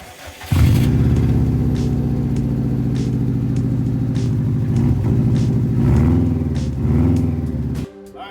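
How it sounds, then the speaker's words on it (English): A Subaru WRX cold-starts on its stock exhaust, settling into a loud, steady low rumble with a high, lumpy idle that dips and swells a few times before cutting off abruptly near the end. "Here's a cold start so you can hear the stock exhaust."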